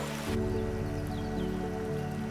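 Rain pours steadily on a boat during a backwater cruise between Kottayam and Alappuzha, a continuous close patter with a low engine hum beneath it and no talking.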